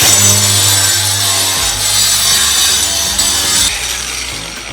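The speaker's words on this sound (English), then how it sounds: "So what I'm using here is a masonry bit." A masonry bit scoring a plaster wall, giving a loud, continuous gritty scraping and grinding with low rumbling bursts that shift a few times over the stretch, with no talk.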